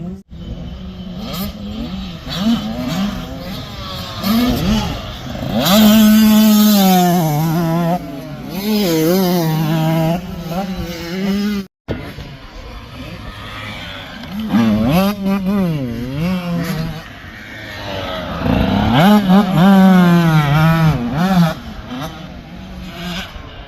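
Two 85cc dirt bikes rev their two-stroke engines nearby, buzzing up and down through repeated throttle sweeps, loud and rising as they pass close by, with a brief dropout midway and voices under the engines.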